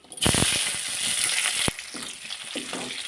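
Five or six green chilies and grated ginger crackle in hot oil, a loud close sizzle with quick bursts of spattering and a few clinks from stirring, settling into a steadier hiss.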